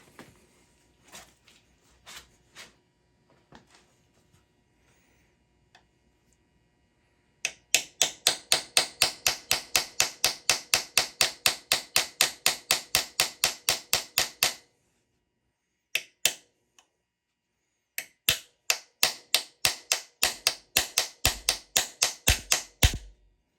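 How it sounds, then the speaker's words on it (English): Rapid, steady metallic tapping from a hammer lightly striking a metal part on a 1972 Yamaha DT2 motorcycle, in a long even burst, a short pause, then another run of light strikes after a few scattered taps. "lightly tap with the hammer"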